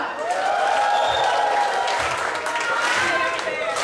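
A comedy show crowd claps along on cue, steady dense applause filling the whole stretch with cheering voices and music mixed underneath.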